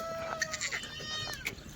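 Kathiawadi goats bleating in short wavering calls, several overlapping cries close by over a busy farmyard background.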